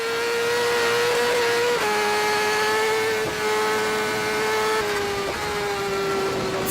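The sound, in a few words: onboard racing motorbike at full throttle over 300 km/h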